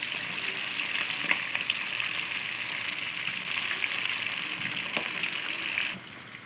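Beef boti pieces sizzle steadily in hot oil in a kadhai, a continuous bright frying hiss with faint crackles throughout, ending with a slight drop in level near the end.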